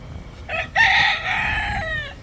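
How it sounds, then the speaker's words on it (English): A rooster crows in Grand Cayman: a short opening call, then one long, loud, close crow that trails off, with no voices over it. "There goes Mama Chicken on that side."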